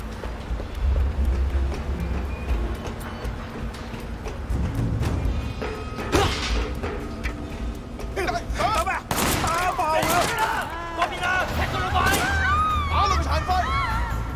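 Gunfire in the video game Sleeping Dogs Definitive Edition, bursts of rapid shots cracking over a busy street soundscape, with a player talking over the action.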